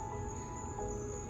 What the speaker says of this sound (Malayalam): ചീവീടുകളുടെ സൗണ്ട് ഉണ്ട്.